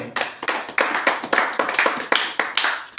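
A church congregation claps together in bursts of rhythmic, close applause, the claps coming in quick repeated clusters with no talking over them.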